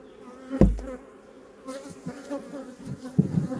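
Honeybees buzz steadily around hives at an apiary during a hive check and honey extraction, a continuous close drone with a few soft knocks and thumps against the hive.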